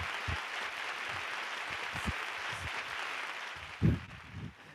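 Applause from a wild, enthusiastic crowd at a live Journey show, a steady broad wash of clapping with a few louder low thumps near the end.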